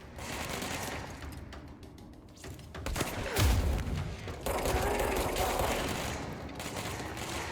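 Rapid gunfire bursts in the video game Control, with booming impacts and mechanical clatter layered over a dense, roaring combat mix that stays loud throughout.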